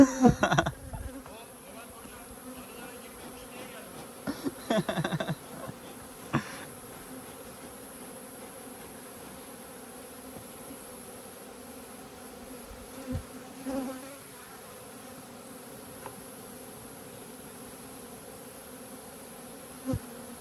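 Defensive, aggressive honeybees drone in a steady buzz around a hive during a varroa outbreak, with several louder bursts as bees fly close early on, then a continuous hum.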